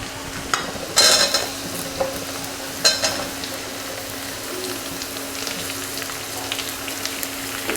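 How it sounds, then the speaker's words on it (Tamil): Onions frying in oil in a pan for Tamil village-style fish kulambu, a steady close sizzle broken by a few sharp scraping stirs near the start. "இப்போது வெங்காயம் சேர்த்துக்கலாம்."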